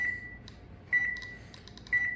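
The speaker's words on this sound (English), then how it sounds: "Every time this thing clicks, it's detecting a radioactive particle." A budget Chinese-made Geiger counter sounds a repeating alarm, a steady tone recurring about once per second. Sharp radiation-detection clicks scatter between the tones, loud and close.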